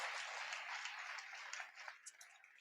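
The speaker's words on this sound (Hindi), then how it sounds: "आप चाहें तो उनके लिए तालियां बजा सकते हैं।" Applause from the audience at an all-India Hindi poetry gathering (kavi sammelan), a dense, fairly faint wash of many clapping hands that thins out toward the end.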